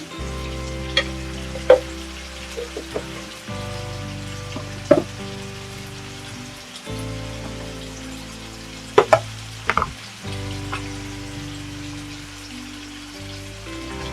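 Chicken curry mixture being stirred in a pan, frying and sizzling steadily with scraping and clinking of a spoon against the pan at intervals, no voices.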